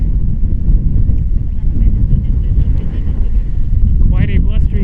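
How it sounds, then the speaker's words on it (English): Strong gusts buffet the microphone on a Greek island beach at Ios, a loud continuous low roar with a brief whistling tone near the end. "Quite a blustery day here."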